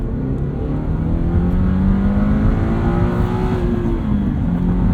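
A 2022 Subaru BRZ engine with a 6-speed manual revs hard at high RPM, its pitch climbing and holding in a loud, steady whine before dipping near the end.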